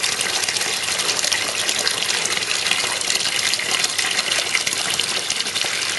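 Water gushes steadily into a plastic garden pond liner for a pond with a waterfall, giving a constant loud rushing splash with no pauses.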